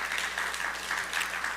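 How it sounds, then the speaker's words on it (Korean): A church congregation applauds at a Sunday morning service, with even, sustained clapping throughout at moderate volume and no talking over it. "우리 두 분 위로하는 마음으로 크게 박수하시기 바랍니다."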